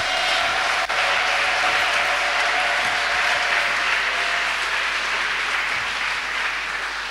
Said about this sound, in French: Est-ce qu'on ne peut pas acclamer pour la parole de Dieu?